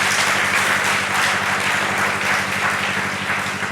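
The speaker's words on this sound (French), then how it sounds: "On acclame très fort pour le Seigneur" A crowd of young people at an opening Mass for a national charismatic youth forum applauds loudly, a steady wash of clapping and cheering that holds at full strength throughout with no pause.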